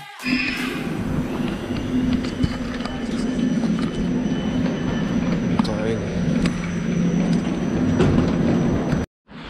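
An RE 60 regional train rolls into platform 3 at a German station on its way to Mannheim Hauptbahnhof, a steady rumble and rolling noise under station announcements and voices, ending abruptly.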